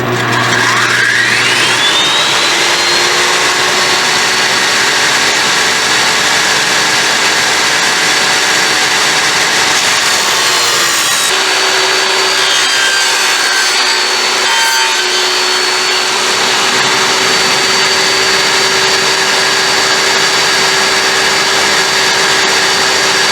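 A loud power saw cuts dados into shiplap siding boards, running in long sustained passes with a whine that shifts pitch as the blade bites the wood and eases off, close and uninterrupted with no voices.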